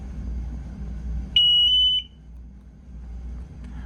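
An MSA Altair 5X portable gas detector gives a single high electronic beep lasting just over half a second after a button is pressed, in a quiet room with faint background hum.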